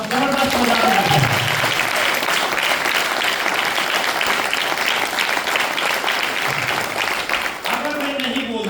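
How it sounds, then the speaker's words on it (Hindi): A large audience at an RCM business event claps loudly and continuously in sustained, dense applause, with a voice speaking over it through a sound system. "जबरदस्त तालियां बजाओ। और आप बजा रहे हो जबरदस्ती वाली तालियां। अब जबरदस्त बजा रहे हैं।"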